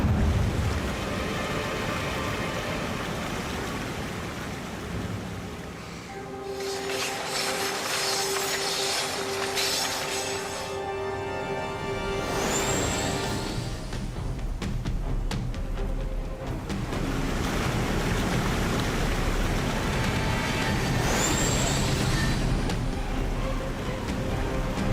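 A train runs near a waterfall, giving a continuous heavy rumble mixed with rushing water, with high squealing tones like braking rising twice over the roar.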